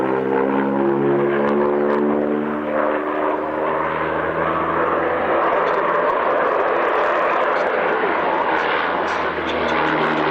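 A normal production propeller airplane performs aerobatics at an airshow, its engine droning loud and steady throughout with a shifting, sweeping tone as it maneuvers overhead.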